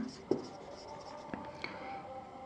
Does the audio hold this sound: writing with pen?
yes